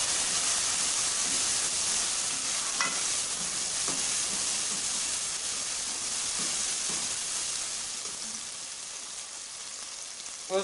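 Chopped tomatoes tipped into golden frying onions for a chicken and ridge gourd curry, a continuous loud sizzle and hiss with a spoon scraping and stirring now and then, easing slightly toward the end.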